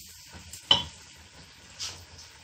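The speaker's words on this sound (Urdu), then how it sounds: "اب ان کو اچھی طرح فرائی کرتے ہیں" Spices for aloo gosht fry in a pan while a spoon stirs them, giving soft sizzling with a few sharp scrapes and clinks, close and fairly quiet, no talking.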